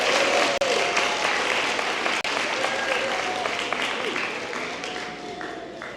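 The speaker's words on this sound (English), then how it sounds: "you can turn around, face them, and give them a round of applause" Graduates at a college commencement ceremony applaud their families in a large hall, sustained dense clapping with a few cheers and voices, gradually tapering off toward the end.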